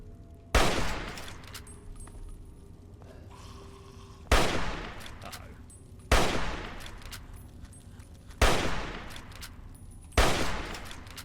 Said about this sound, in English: It's good shooting.